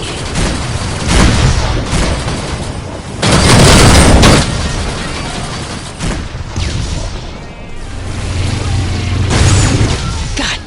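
A spaceship missile launches and detonates in Rebel Galaxy 2, with heavy booming blasts and rumbling explosions in dense space combat, loud and close, repeating across the scene.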